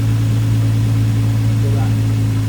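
A Nissan 350Z drift car with an upgraded exhaust idles steadily, giving a loud, close, continuous low rumble with no voices.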